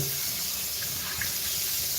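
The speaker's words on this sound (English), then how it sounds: "And then rinse out your air fryer basket while it's very hot with hot water." Hot tap water runs steadily into a sink over an air fryer basket, a continuous close splashing hiss with no voices.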